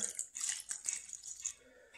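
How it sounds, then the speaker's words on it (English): Grout sealer poured from a container into a small bucket for sealing a tile floor, heard as a close, splashy trickle of liquid in short uneven bursts, with no talking. "we're just going to pour some of this into the container"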